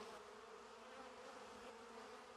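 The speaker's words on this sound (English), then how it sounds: "Looks like a wad of bees." Steady, droning buzz of bees feeding on honey, continuous and fairly close, with no pauses or voices.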